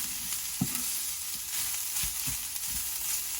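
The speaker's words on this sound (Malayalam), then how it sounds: "അതിലേക്ക് ഷുഗർ ആഡ് ചെയ്ത് കൊടുക്കാം. നന്നായി നമുക്കിത് മിക്സ് ചെയ്ത് കൊടുക്കാം." Coconut and sugar mixture being stirred in a hot pan while making an unnakaya banana snack, with a steady sizzling hiss throughout and a few soft, dull scraping knocks of the spoon against the pan.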